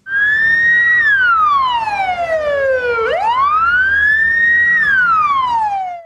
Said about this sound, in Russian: Вой сирены на улице Полевая заставил оглянуться всех прохожих.